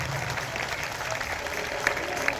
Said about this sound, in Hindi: माता बहनों के लिए भी ताली बजा दीजिए